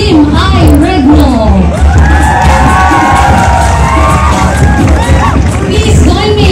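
A large outdoor crowd at the Balik Patik Battle of the Ati-Atihan Bands cheers and applauds the judges, loud and dense, with whoops and shrill children's shouts rising over a constant roar.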